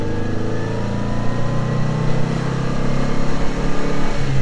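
A VW Beetle engine revving up through the RPM range while driving, a steady rising mechanical drone with clear harmonic whine, loud and close from inside the car, with no talking over it.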